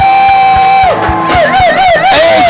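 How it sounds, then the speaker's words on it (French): Church congregation shouting cries of joy, a loud close burst of voices with whoops and yells mixed with amplified speech and music. "Est-ce que j'entends des cris de joie?"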